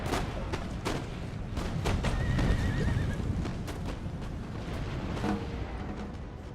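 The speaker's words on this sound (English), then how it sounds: "I guess Ottoman should use some cheaper cavalry units to do this first charge" Cavalry horses charge in a black-powder era strategy battle, with hooves clattering and a horse whinnying loudly. Sharp gunshot cracks from infantry volleys break in repeatedly over the rumbling stampede. No speech.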